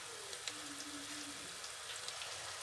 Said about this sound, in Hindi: और प्याज को भूनेंगे।